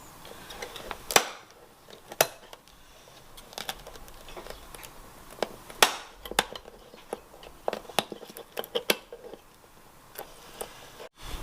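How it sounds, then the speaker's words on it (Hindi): A small screwdriver pries old pins out of a worn window frame, giving sparse, sharp clicks and brief metallic scrapes up close, irregularly spaced, with no voices. "ये मैं छोटे स्क्रू ड्राइवर की मदद से सारी पिनें निकाल रहा हूँ।"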